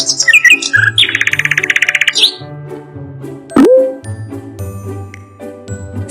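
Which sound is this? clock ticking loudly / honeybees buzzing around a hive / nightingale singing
nightingale singing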